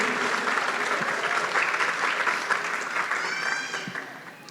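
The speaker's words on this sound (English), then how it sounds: "She deserves a big applause from all of us." Audience applauding at a Bharatanatyam arangettam dance recital, a dense steady clapping that holds loud through the clip and begins to thin toward the end.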